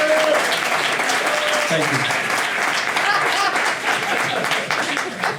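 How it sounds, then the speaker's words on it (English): Audience applause for the dancers Skye, Naomi and Peter at a dance studio event: steady, dense clapping from a crowd fills the whole stretch, loud and close, while a voice speaks briefly over it. "give them one more round of applause"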